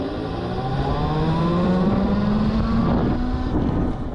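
Super Soco TC-Max electric motorcycle accelerating at full power on a road, its motor whine climbing steadily in pitch under heavy wind rush.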